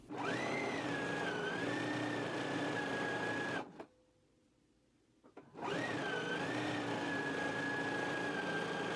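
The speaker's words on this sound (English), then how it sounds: "now we can take both of them to the machine and again stitch at a 5/8 of an inch along this long edge" A sewing machine stitches a 5/8-inch seam along the long diagonal edge of fabric ties, running steadily and close for several seconds, then stopping briefly before starting again at the same even hum.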